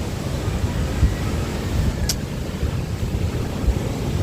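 Steady roar of surf and wind rolling through the whole stretch, broad and constant like heavy waves breaking nearby, with a faint gusty rumble underneath.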